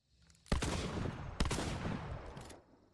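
Two loud, booming shotgun blasts of buckshot without slugs in the video game Hunt: Showdown, each followed by a long rumbling tail, with nobody talking.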